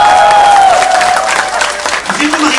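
Applause from the crowd at a Vmobile business presentation rises and falls under a voice speaking, and a steady electronic tone runs beneath it.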